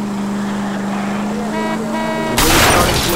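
A car in L.A. Noire rushes past, a steady engine hum rising to a loud roaring whoosh near the end, with no talking.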